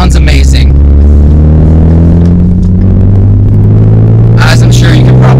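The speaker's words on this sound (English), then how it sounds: "I have Flowmaster Axle-Back Pro Exhaust on the car." A V6 Ford Mustang fitted with a Flowmaster Axle-Back Pro exhaust idles with a loud, deep, steady rumble close by, and brief bursts of other noise come at the start and near the end.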